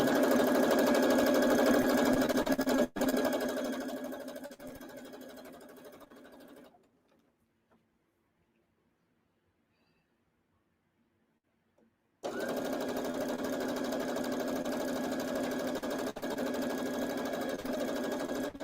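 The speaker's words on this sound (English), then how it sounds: "This sewing machine can move pretty fast here" A sewing machine stitches rapidly and loudly, stops for several seconds of near silence, then starts up again at the same steady pace.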